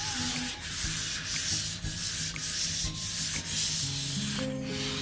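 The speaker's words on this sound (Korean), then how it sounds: "400 사포를 가지고 이제 사포를 동일하게 쳐줄 건데요" Sandpaper of 400 grit rubbed along the grain of a camphor wood cutting board, giving steady, close scratchy strokes in a continuous rhythm with no talking.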